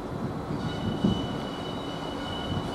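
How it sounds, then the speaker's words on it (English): A dirty Class 66 freight locomotive, 66764, arriving at Norwich station, a steady low rumble of the approaching train with faint wheel noise. "So it's definitely a freight coming in."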